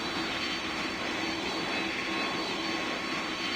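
A steady roaring jet engine drone from an airliner taking off in the Roblox game PTFS, loud and constant with no voices.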